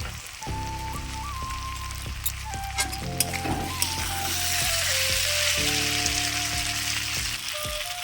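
Crushed lentil dumplings (bori) tipped into a pan of frying potato and capsicum, a steady close sizzle and crackle with scattered clinks, while a tonal hum shifts pitch underneath.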